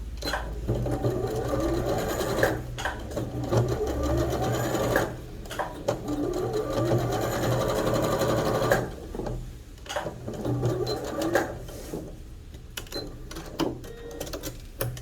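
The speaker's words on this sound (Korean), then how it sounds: "주머니감 위쪽에서 가늘게 박음질한 선에서 가늘게 한번더 박음을 해줄게요." A sewing machine topstitches a jogger pants front pocket close to the seam line, humming steadily and up close for about nine seconds, then giving way to softer handling noises.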